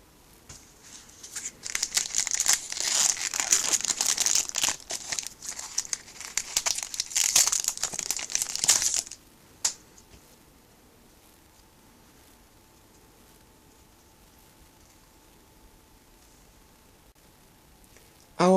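Crinkling plastic wrapper of a Magic: the Gathering Magic Origins booster pack being torn open, a dense crackly rustle for about nine seconds, close and fairly loud, then near silence.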